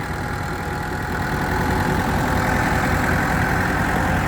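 A Kubota LC 508 engine running nearby, a steady loud low-pitched idle with a slight knocking rumble that holds evenly throughout.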